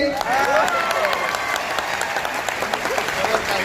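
Loud, sustained applause from a large audience at a student career guidance gathering in Nanded, a dense steady wash of clapping filling the whole stretch, with a voice audible over it.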